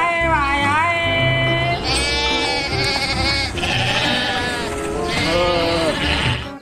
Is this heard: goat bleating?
yes